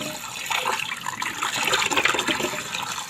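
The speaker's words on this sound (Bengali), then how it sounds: "2-3 বার করে জল দিয়ে দিয়ে ধুতে হবে।" Ripe java plums are rinsed in water indoors, a soft continuous splashing and running-water rush with gentle churning, fairly quiet and without voices.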